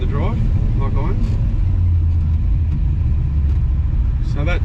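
A Holden HT Monaro's engine idles with a steady, loud low rumble throughout, with a voice talking faintly over it near the start and end.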